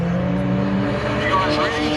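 Drift cars at the 2020 GTR Festival in New Zealand roar steadily with a rising squeal of tyres, while people talk over the engine noise.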